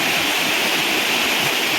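Rushing water pours steadily at Areekal waterfall near Pampakuda village, Muvattupuzha, a dense, unbroken roar filling the air from close by with no voices.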